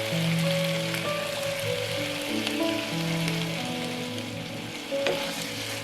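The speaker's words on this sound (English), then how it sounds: "Stir fry until fragrant, then sprinkle in the red chili powder." Pork belly stir-frying in a pan with red chili powder for Vietnamese braised pork belly with pineapple, a steady close sizzle with faint scraping of stirring and no voices.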